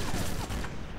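Gunfire from the Sniper Elite video game, a dense burst of overlapping shots filling about a second of loud, continuous in-game action noise.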